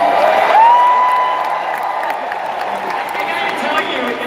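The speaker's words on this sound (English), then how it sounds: "I can imagine it by the sounds of the crowd." A large audience at a D23 Disney panel cheers and applauds, a broad wash of clapping and whoops that stays fairly loud and steady, with a brief tone rising out of it near the start.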